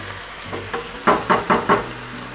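Minced meat frying in a pan while making a meat quiche, giving a run of four or five close, distinct scraping or stirring strokes over a faint background sizzle.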